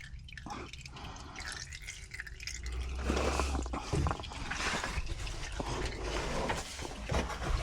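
Engine oil from a Dodge Ram dripping and trickling into a catch pan during an oil change, a steady liquid patter with irregular drips, fairly close, growing louder midway, with workshop noise behind.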